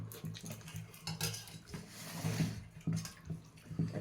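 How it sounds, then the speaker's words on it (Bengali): Lentil dal with bottle gourd, coriander leaves and tomato being ladled onto a plate, with soft scraping clinks of a spoon against dishes and wet patters repeating in quick bursts, close by and moderately loud. "আরো ডাল দিচ্ছি।"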